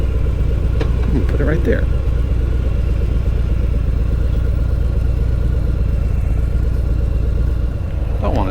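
A motorcycle engine idles and rumbles steadily throughout at close range while the rider parks the bike outdoors, with his voice talking over it and a brief clatter near the start.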